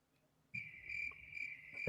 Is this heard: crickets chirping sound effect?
yes